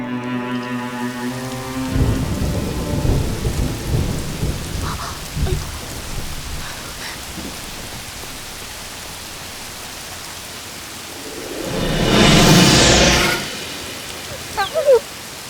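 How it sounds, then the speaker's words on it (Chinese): Rain falling with thunder during a storm in a period fantasy drama scene, with a dense patter of rain, a low rumbling roll early on and a louder crashing peak near the end. "怎么下雨了？"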